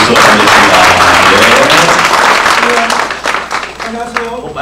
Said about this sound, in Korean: 박수로 함께 우리 함께 모시도록 하겠습니다.